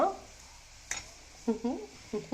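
Dissolved tamarind water goes into a pan of sizzling thoothuvalai keerai vatha kuzhambu, giving a sharp hiss followed by a few short bursts of bubbling sizzle and stirring, close and fairly quiet.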